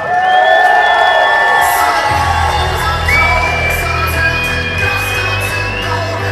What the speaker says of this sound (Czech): A dalším potleskem přivítejte